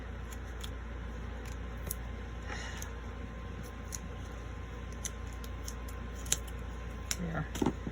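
Scissors trimming paper to size for a shabby chic journal pocket, a series of quiet crisp snips and ticks spread irregularly over a soft background hiss.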